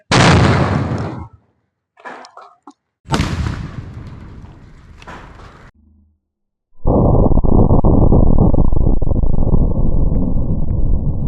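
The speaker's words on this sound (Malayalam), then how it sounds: "ഞങ്ങളുടെ മത്തങ്ങ പൊട്ടിത്തെറി കണ്ടില്ലേ" A firecracker bomb set inside a pumpkin blows up outdoors in strong wind with several loud, sharp blasts, then a long steady roar of burning and hissing.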